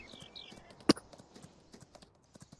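Horse hooves clip-clop in Farming Simulator 19, with soft scattered footfalls and one sharp, loud knock near the start, no talking over them.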